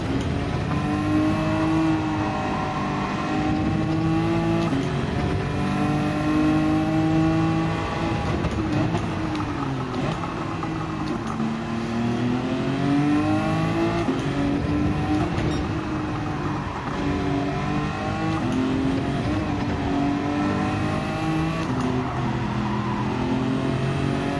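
Race car accelerating in Gran Turismo 7 at Road Atlanta, a steady loud engine drone with rising and falling rev sweeps through gear changes, continuous and close throughout without talk.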